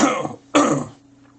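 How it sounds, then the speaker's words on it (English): Two harsh coughs from one nearby person, a first burst and then a stronger second one about half a second later, trailing into quiet. "Holy crap, that cough though."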